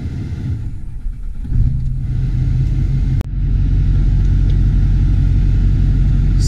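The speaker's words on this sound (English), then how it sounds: "So now that we're sitting in traffic again on the way back" A truck engine idles in traffic with a steady, loud low rumble that holds throughout, broken by a brief click midway, with no talking.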